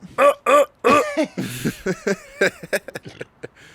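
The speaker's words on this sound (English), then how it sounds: "I didn't mean to burp into the mic" A person burps loudly into a microphone, a short guttural belch amid a string of close vocal grunts and sounds.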